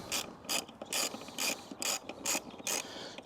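A wrench works bolts loose on a Moto Morini Vettore 450 motorcycle, making a steady, close ratcheting click repeated in regular bursts about twice a second.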